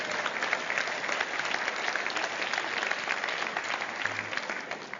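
An audience breaks into steady, sustained applause, many hands clapping together at an even level throughout with no voices standing out.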